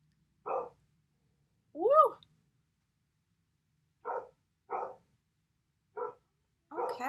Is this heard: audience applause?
no